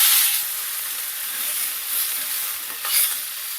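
Onions sizzle in hot oil in a wok (kadai) for a Bengali bitter gourd and vegetable dish, a steady close hiss with light stirring scrapes and brief louder bursts, no voices.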